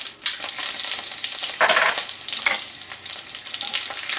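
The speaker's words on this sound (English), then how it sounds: "Add mustard seeds, let them crackle. Once they start sizzling" Steady crackling sizzle of curry leaves and mustard seeds frying in hot oil, close and continuous, with a few louder bursts of spitting.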